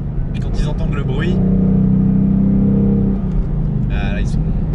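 The V8 of a Ford Mustang Bullitt rumbles in a deep, steady low drone under close speech inside the car, swelling for a couple of seconds mid-clip before easing back.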